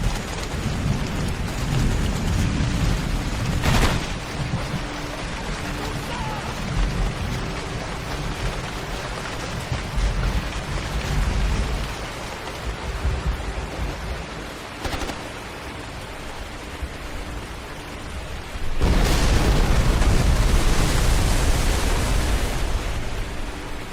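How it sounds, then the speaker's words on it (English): Demolition charge detonation in the Ghost Recon 2 video game, heard as a broad, rumbling explosion roar over steady noisy ambience, with sharp bursts around four and fifteen seconds and a louder, sustained blast surge near the end. "Get clear of the charge before it detonates."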